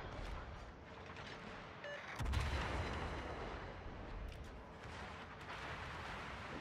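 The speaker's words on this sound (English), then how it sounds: "Avoid some shots from the Iowa." Battleship Iowa gunfire in a naval video game, a heavy boom at about two seconds over a dense rumbling battle bed, fairly faint and mixed, with no talking.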